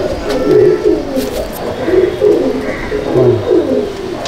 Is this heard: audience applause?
no